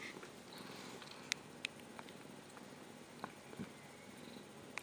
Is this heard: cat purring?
yes